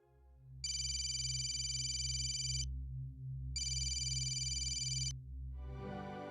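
A telephone rings while a call is placed, giving two long, steady electronic ring bursts of about two seconds each with a short gap between them, clear over a low hum, with a soft noise at the end.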